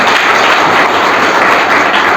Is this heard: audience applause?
yes